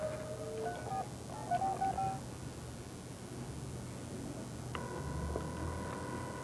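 A telephone dials a number with a quick series of faint electronic touch tones early on, then a longer steady dial tone later, all over quiet background hiss.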